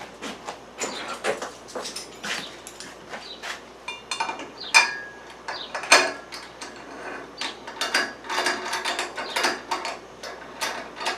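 A metal clamp is fastened around the gasketed joint of a copper-packed still column for wheated bourbon, giving a run of small close ratcheting clicks, scrapes and metallic taps in irregular bursts with no talk.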